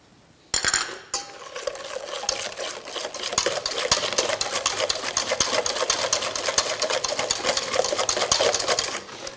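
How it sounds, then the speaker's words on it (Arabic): An electric mixer whirs through biscuit batter with milk added, starting abruptly with a brief stutter and then running as a steady close buzz with rapid ticking and scraping against the bowl, with no talk. "الحليب غادي نديرو الميكسو ديالنا حتى هو"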